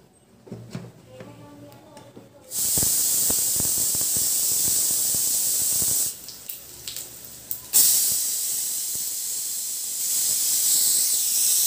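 A pressure cooker lid vents steam with a loud, steady hiss while mutton cooks, broken by a short lull and then resuming, with talk faintly audible beneath.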